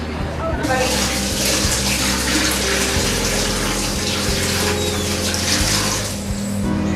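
Tap water runs steadily into a bath being drawn for a small child, a close, continuous splashing rush with a low hum, while adults talk quietly over it.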